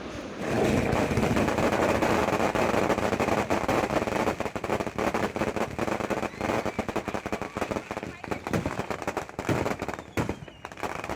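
Dense volleys of firecrackers crackle and pop in rapid, nearly continuous bursts at a night-time temple festival procession with a goddess carried on a chariot, loud and close, easing slightly toward the end.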